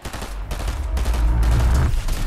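Rapid gunfire in a Fortnite solo tournament video game, several sharp shots and bursts over a heavy low rumble, loud and close, with no voices heard.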